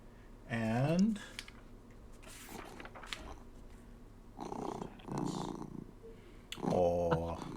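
A pet cat purring close by, a low steady rumble that shows up in bursts between stretches of people talking.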